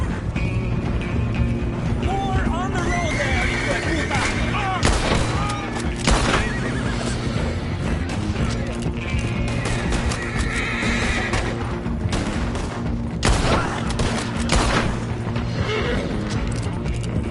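Horses whinny repeatedly in the Red Dead Redemption 2 game, shrill neighs rising over a continuous drumming of galloping hooves and wagon rumble, with a few heavy thuds breaking through.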